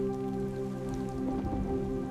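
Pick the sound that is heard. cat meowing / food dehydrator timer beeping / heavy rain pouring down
heavy rain pouring down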